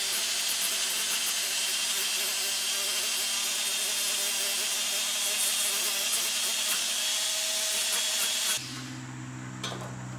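A power sander on craft foam whirs with a steady, loud hiss for several seconds, then cuts off, leaving a quieter lower hum.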